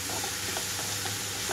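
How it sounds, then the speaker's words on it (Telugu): Ridge gourd pieces hit a hot pan and sizzle steadily, a loud, dense hiss that holds the whole time with faint stirring scrapes. "కట్ చేసి పెట్టుకున్న బీరకాయ ముక్కలు మొత్తం వేసేసుకుంటున్నాను"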